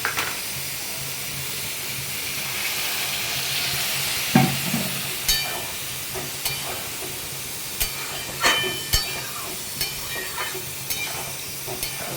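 Peas and green chilies fry and get stirred in a pan, a steady hiss with scattered spoon scrapes and knocks against the metal, close and fairly loud.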